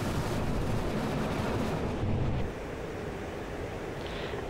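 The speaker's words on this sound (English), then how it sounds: "I unleash my rockets" Rockets unleashed from an AJS-37 Viggen in DCS, a dense roaring whoosh over steady jet noise that cuts down abruptly partway through, leaving a lower continuous rumble.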